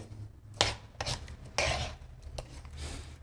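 Boiled amla gooseberries and spices being mixed together for pickle, making rough scraping and rubbing strokes in bursts with short pauses between them, close by, with no talking.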